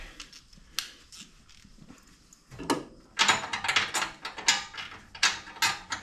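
Exhaust hardware bolts on an Indian Challenger motorcycle are snugged up with a hand tool, giving a run of close, sharp ratcheting clicks and metallic scrapes in irregular bursts, quiet at first and then busier.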